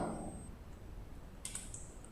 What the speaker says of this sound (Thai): ให้กด Ctrl L ที่คีย์บอร์ด